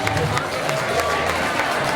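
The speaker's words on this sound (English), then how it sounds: "Let's give all of our Black grads a big round of applause." A crowd at a graduation celebration for Black graduates claps in steady, dense applause with some cheering and chatter, filling the whole two seconds.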